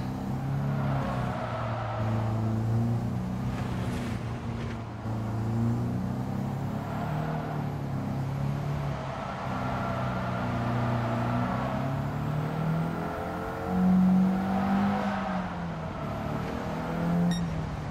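A rear-wheel-drive turbocharged car in the video game Gran Turismo 7 drones steadily at speed, its engine pitch rising and falling as it shifts and accelerates, with a brief louder surge near the end and no talk.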